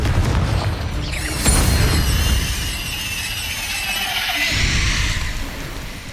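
A Confringo spell blast in the video game Hogwarts Legacy, a loud, booming explosion with a rising whoosh and ringing magical shimmer that rumbles on for several seconds.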